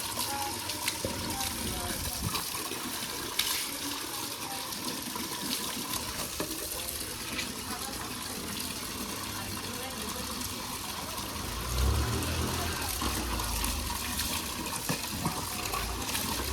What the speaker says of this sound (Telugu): చెవులకు పోకుండా చెవు మూసేసి ఇట్లా నీళ్ళు పోయాలి